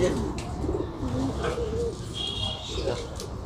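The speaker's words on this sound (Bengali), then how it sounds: "নেক্সট বন্ধুরা এখানে আছে কিং সাইজ পায়রা।" Pigeons, including king-size birds, cooing at a bird exhibition at a fair: soft, low, rolling coos repeating over a busy background.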